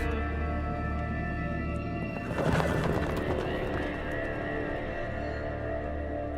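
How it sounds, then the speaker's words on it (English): A horse neighs loudly and clip-clops along in the REANIMAL game, one whinny rising sharply over steady hoofbeats and a constant low ambient drone. "That was the horse that we saw in the concept art"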